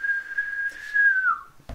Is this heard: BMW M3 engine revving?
no